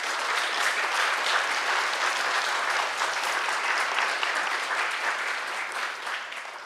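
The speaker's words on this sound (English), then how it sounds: "Let's give those people a round of applause" Sustained applause from a church congregation during a service, dense steady clapping with no voices that holds evenly for several seconds before easing slightly at the end.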